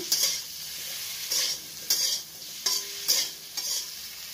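Vegetables stirred in a hot pan with cumin, coriander powder and turmeric, bursts of bright sizzle from about six spatula strokes in an uneven rhythm, close and clear, no voices.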